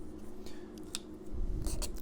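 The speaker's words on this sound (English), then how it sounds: "just scrape it away" Tool scraping excess binding from the edge of a guitar body, short close rasping strokes over a low steady background hum.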